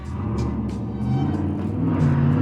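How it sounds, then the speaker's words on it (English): A car or truck engine rumbles steadily nearby, a low continuous drone with slight rises in revs, heard alone without talk. "I think that's the same car every time, or truck, every time."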